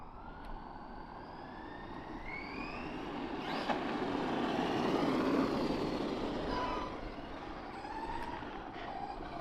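An Arrma Kraton V2.5 RC truck with a center diff whines back and forth as its electric motor rises and falls in pitch, moderately close, over steady outdoor background noise with no talking.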